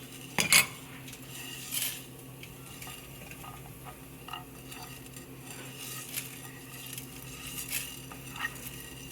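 Flax seeds and coriander seeds dry-roasting in a pan, with a spoon scraping and stirring against the metal, a few louder clinks early on over a soft steady rustle, close by and with no talk.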